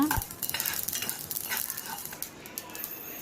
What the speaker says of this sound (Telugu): మెంతులు ఒక కప్పు బాగా రోస్ట్గా చేసుకో వేయించుకోవాలి మొత్తం ఇది ఎర్రగా వచ్చేదాకా వేయించుకోవాలి